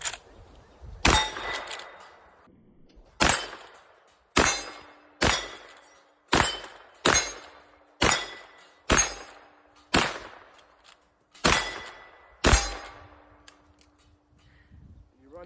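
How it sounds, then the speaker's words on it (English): Cartridges, .45 Colt rounds, being pushed one by one into the tube magazine of a Rossi 92 lever-action rifle: about eleven sharp, close metallic clicks and clacks at a fairly steady pace, with no talking. "you can cram all those cartridges up in there"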